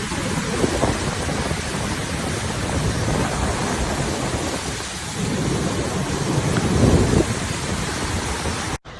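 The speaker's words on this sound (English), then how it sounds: "Flash floods triggered by heavy rain swept through Mecca on Saturday" Heavy rain pours steadily during flash flooding in Mecca, with thunder rumbling through a dense, loud wash of rainfall that swells and continues without any talk.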